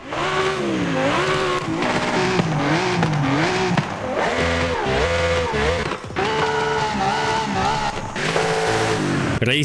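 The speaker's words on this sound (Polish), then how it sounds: "Racing V8 brzmi super w tej części." A racing V8 car engine in Forza Horizon 5 revs hard through repeated gear changes, its pitch climbing and dropping in rising sweeps, loud and close, with tire squeal mixed in.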